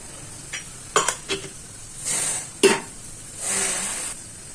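Chopped onions and carrots sizzle in hot oil in a wok while making vegetable Maggi masala, with a few close utensil clinks and stirring scrapes between swelling bursts of frying noise. No one talks.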